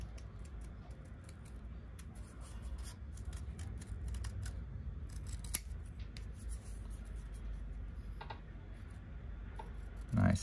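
Scissors cut a leaf shape out of folded paper, a quiet series of crisp snips and rustles close by in a calm room.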